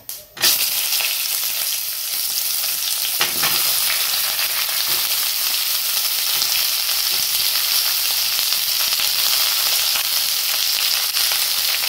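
Onion with black pepper, cloves, sesame seeds, cashews and chilli sautéing in hot oil, a loud, dense, close sizzle that bursts in suddenly and holds steady throughout with faint crackles, no voices.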